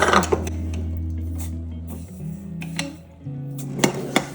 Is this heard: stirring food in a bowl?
yes